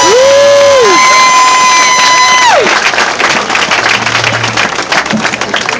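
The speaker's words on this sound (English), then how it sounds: "Let's give her a huge round of applause" Crowd applause and cheering at an outdoor March Against Monsanto rally, starting under a fading wail of sound-system feedback then swelling into sustained clapping and shouts from a sizeable crowd.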